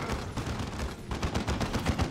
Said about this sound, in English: And that is an auto cannon doing work as well.